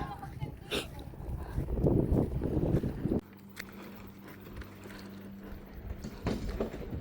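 Steady wind rushes and buffets the microphone outdoors at a seaside fishing spot in New Zealand, with a faint low engine hum and brief speech.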